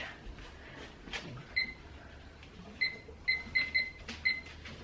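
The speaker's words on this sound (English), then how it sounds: "Just gonna set this timer for 30 minutes and see where we're at then." A kitchen timer being set for frozen meal prep, a series of short, sharp electronic beeps from button presses, spaced irregularly and clearly audible over quiet room noise.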